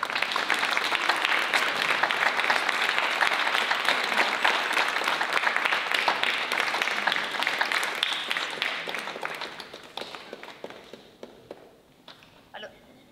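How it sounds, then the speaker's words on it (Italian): Warm applause from a theatre audience at the Teatro Asioli during a festival evening, loud dense clapping that holds steady for about ten seconds before tapering off to a few scattered claps. "Invito il nostro pubblico a fargli un caloroso applauso"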